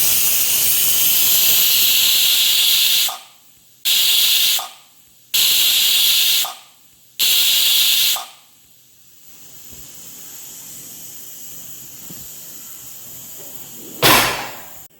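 A pressure cooker with mutton inside releases loud steam whistles in four hissing bursts, close by, then falls to a quieter background with a sharp clatter near the end.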